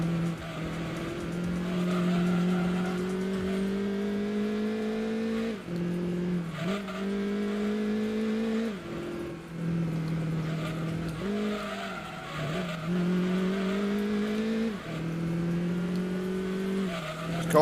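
A race car in the Gran Turismo 2 video game, run in a one-make race, drives with a steady engine drone and repeatedly squeals its tyres through corners, with engine pitch rising and dipping throughout.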